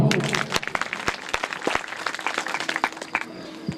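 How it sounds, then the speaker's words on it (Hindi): Audience applause breaking out at a Hindi-language public gathering, a steady spatter of many hands clapping at close range for nearly four seconds. "एक बार तालियां होगा।"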